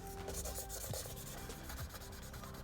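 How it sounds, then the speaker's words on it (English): A Honda steering wheel emblem being sanded by hand with fine 2000 grit sandpaper: a quiet, close, continuous rubbing and rasping with quick back-and-forth strokes. "take a little bit of sandpaper, this is a little 2000 grit, and just sand around it"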